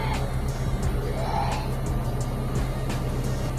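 Mitsubishi Lancer engine idling steadily at around 900 rpm after an idle servo repair, a continuous low hum heard up close and warm, with light ticking above it.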